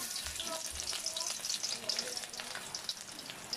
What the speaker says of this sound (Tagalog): lagay na natin yung garlic natin